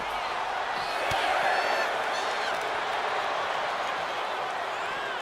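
An arena crowd roars in the WWE 2K25 wrestling game, a steady wash of cheering and noise that swells slightly early on and continues without a break.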